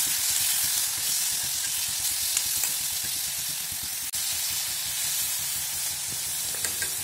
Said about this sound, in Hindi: अब इसे हल्का सौटे करेंगे, इसे ज़्यादा पकाना नहीं है